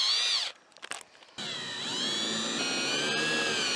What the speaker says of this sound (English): I'm going to drill those two holes out with that drill